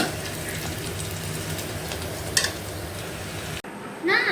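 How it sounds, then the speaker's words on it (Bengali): Spice paste frying and being stirred in a pan for a fish curry with pointed gourd, potato and tomato, a steady close sizzle with stirring scrapes, then a sudden cut to quieter sound. "এখন মশলাটা কষিয়ে নিচ্ছি।"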